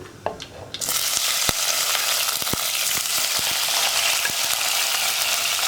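After a few light clinks, chopped tomatoes drop into hot oil and a loud, steady sizzle takes over, with occasional sharp crackles.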